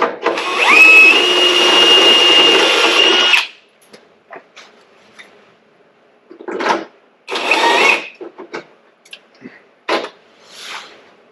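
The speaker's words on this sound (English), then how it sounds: "Drill a hole in that." A power drill runs at full speed for about three seconds, drilling a hole while fitting fender flares to a Fuso expedition camper, then stops, followed by scattered clicks, rustles and short bursts of handling noise.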